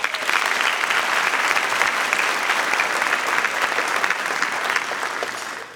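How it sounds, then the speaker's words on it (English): Loud sustained applause from a graduation ceremony audience, dense clapping from many hands that holds steady throughout and tapers slightly at the end, with faint crowd murmur beneath. "a huge round of applause to our staff who works behind the scenes and our faculty"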